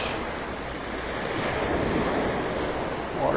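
Ocean surf rolls steadily onto the beach at Delnor-Wiggins in North Naples, Florida, with a rough south wind buffeting the microphone in a continuous, loud wash.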